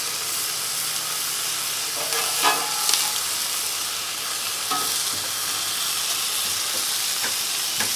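Smash burgers sizzle steadily on a Blackstone flat-top griddle, with a dense constant frying hiss and a few brief metallic spatula scrapes and clicks standing out, close by and with no talking.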